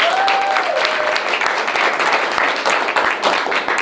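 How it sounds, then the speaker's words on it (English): An audience at a business chamber program applauds a newly introduced guest with dense, steady clapping throughout. A brief whistle or whoop sounds near the start. "Let's give him a round of applause."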